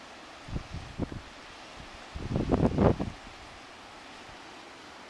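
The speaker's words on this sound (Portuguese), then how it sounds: "Tá ventando muito, eu não sei como é que vai ficar o áudio." Strong wind buffets the microphone at a hilltop viewpoint, a steady rushing roar with gusty bursts, the loudest swell near the middle, no speech heard.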